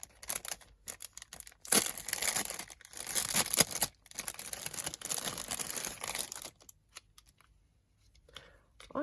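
Paper wrapping on a mail package crinkles and rustles as it is opened up close, in irregular bursts of crackling handling separated by brief quiet pauses.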